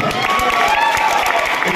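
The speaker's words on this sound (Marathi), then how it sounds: "जोरदार टाळ्या" Enthusiastic applause from a crowd at a bhajan group event in Dombivli, dense continuous clapping with some cheering, loud and close throughout.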